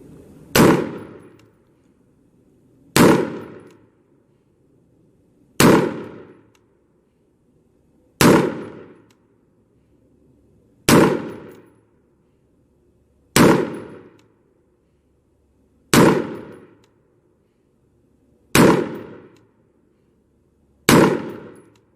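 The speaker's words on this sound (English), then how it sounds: "On the command, you'll engage the target with 10 rounds in a time limit of 50 seconds." Rifle shots fired one at a time at a target from the 100-yard line, a timed course of fire: nine sharp, loud cracks spaced evenly about every three seconds, each with a short decaying echo, no talking between shots.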